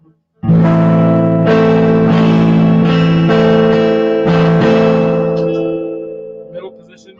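An electric guitar's neck pickup through a Roland JC-90 amp, tone at full, plays several strummed chords with a warm, rounded tone, each ringing out and fading, close and loud.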